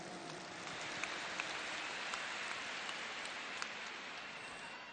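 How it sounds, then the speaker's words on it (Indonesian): Large crowd applauding at an outdoor presidential campaign rally in a stadium, a dense steady wash of clapping that continues at even loudness throughout, with a few sharper claps standing out. "Tepuk tangan untuk semua yang memilih hadir di sini"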